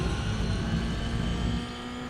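Toyota GR86 race car in iRacing at Monza under hard acceleration, a loud, close engine roar sustained at high revs that eases off slightly near the end, no talk.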